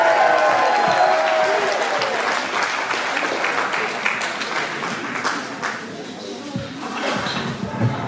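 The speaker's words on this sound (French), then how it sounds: "Et une ovation pour Francine." A hall audience at a 60th-birthday celebration gives a loud, sustained ovation for Francine, dense applause from many hands with murmuring voices mixed in, slowly easing off over several seconds.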